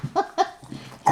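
A dog gives a few short, close barks or yelps in quick succession, loud and clear, with no talk over them.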